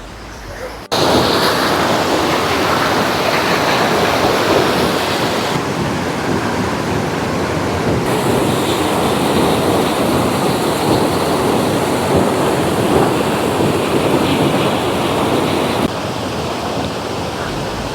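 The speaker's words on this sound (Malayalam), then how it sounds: "ഈ ഒഴുകി വരുന്ന വെള്ളം നേരെ വന്ന് പതിക്കുന്നത് ഒരു ചെറിയ കുഴിയിലാണ്" Monsoon-swollen waterfall at Irappam Kuzhi in Amboori, Trivandrum, plunging into a small pool, a loud, dense, continuous roar of rushing water, close and unbroken throughout.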